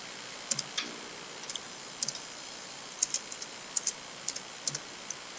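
Computer keyboard keys tapped while typing a slide title in presentation software, in short irregular bursts of crisp clicks, close and fairly quiet, with no talking.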